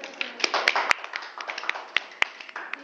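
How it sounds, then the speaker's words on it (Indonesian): A classroom group claps for a student, scattered uneven hand claps with a few sharp loud smacks, heard close and mixed with light chatter. "Tepuk tangan dulu buat"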